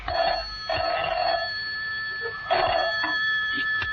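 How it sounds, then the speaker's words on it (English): An old-fashioned telephone bell rings in two short double bursts separated by a pause, its bright metallic trill heard indoors at moderate distance. "A short while after that, John Steed's telephone rang."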